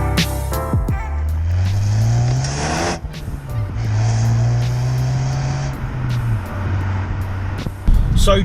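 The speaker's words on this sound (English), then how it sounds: "So driving the 2016 Focus ST" A 2016 Ford Focus ST on the road: the engine note climbs steadily through the gears with audible shifts between, close and fairly loud, ending with a short burst of louder noise.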